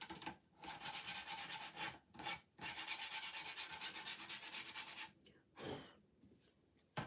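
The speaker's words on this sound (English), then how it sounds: "I'm going to distress the edges with some sandpaper." Postcard edges being distressed with sandpaper, quiet close rhythmic rubbing strokes in bursts separated by brief pauses, with no talking.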